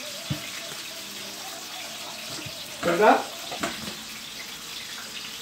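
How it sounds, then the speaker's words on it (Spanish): Tap water runs in a kitchen while hands are quickly washed: a low steady hiss with one louder splashing burst midway, and a brief spoken word early on. "Me lavo las manos súper rápido."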